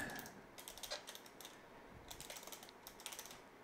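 Fingers type an email address on a computer keyboard, giving quiet close clusters of light rapid key clicks in several short bursts with brief pauses between, and no voices.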